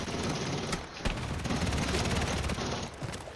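Rapid, dense gunfire in the video game Modern Warfare 3, with continuous bursts and sharp individual shots crackling throughout, loud and close.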